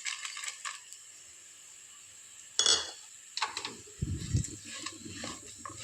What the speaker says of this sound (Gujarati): હવે આપણે ડ્રાયફ્રૂટ નાખીને બે મિનિટ શેકી લઈશું એટલે ડ્રાયફ્રૂટ પણ શેકાય છે